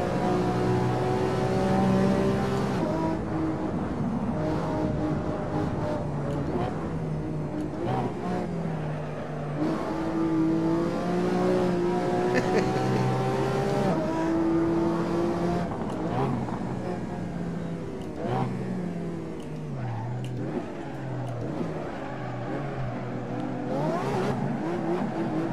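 Engine note of a car in the racing game Assetto Corsa, droning and revving steadily with shifting pitch as it slides through corners, loud and continuous throughout with no talk.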